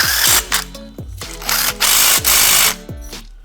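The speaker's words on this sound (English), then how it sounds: "At this point, we'll tighten the control bracket down." A control bracket being tightened down on a Honda GX630 engine during carburetor installation, heard as several short bursts of a whirring power driver with ratcheting clicks between them, close and loud.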